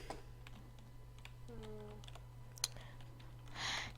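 Computer keyboard typing during a PvP gaming session, with sparse clicks and taps scattered across a steady electrical hum, fairly quiet and close, ending in a short burst of noise.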